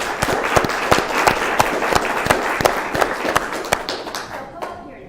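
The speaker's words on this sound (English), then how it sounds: "I think that deserves a round of applause." At a library meeting, an audience gives a student warm applause, a dense and steady clapping from many hands nearby that fades out at the end, with voices mixed in.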